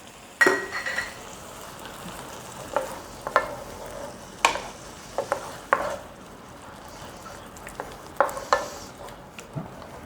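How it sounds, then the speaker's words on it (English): A spoon stirs a sloppy joe mixture of onions and ketchup in a sizzling pan, with repeated scraping clacks and light clinks over a soft frying hiss, close up and without speech. "We'll stir that all up also."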